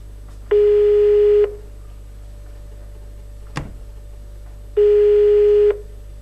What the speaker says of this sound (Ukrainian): відповіли довгими телефонними гудками